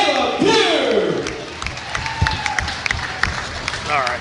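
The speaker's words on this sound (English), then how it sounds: "Another big round of applause coming home second, Caleb Pugh." A grandstand crowd at dirt-track fair races applauds and cheers for a second-place finisher, under an announcer's voice and a passing engine whine, with scattered claps through the rest.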